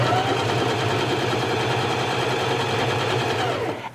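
A Janome HD5000 sewing machine stitches a flat stitch through fabric backed with stabilizer. The needle runs as a fast, steady mechanical chatter at close range, with a constant hum under it, and the stitching slows and stops at the very end.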